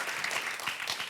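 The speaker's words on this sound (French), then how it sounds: "Bravo Guillaume, on peut applaudir Guillaume qui s'occupe des sons" Studio audience on a French TV dating show applauds, a brief, steady burst of dense clapping throughout.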